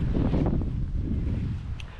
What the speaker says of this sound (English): I hope you can hear me because it is windy